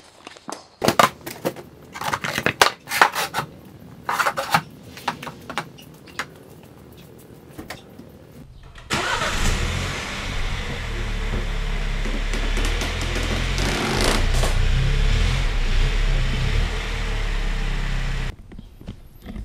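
A 2016 MINI Cooper S F55 engine starts after some clicks and handling noises, catching with a sudden loud roar and then settling into a steady, close idle as it warms up, with no talk.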